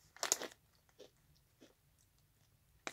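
Fried garlic-flavored corn snacks, Boy Bawang Cornick, are bitten with one loud close crunch, followed by several softer chewing crunches in an otherwise quiet room.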